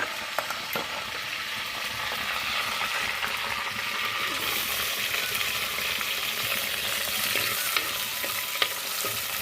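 Curry leaves and onions fry in hot oil with a steady, bright sizzle and occasional stirring scrapes, a continuous close crackle that holds evenly throughout.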